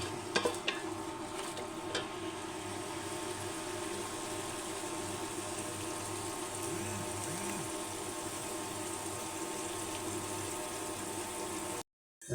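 Masala fried down with water in a pan for an egg curry gives off a steady, soft sizzle with occasional stirring scrapes, then cuts to brief silence at the end.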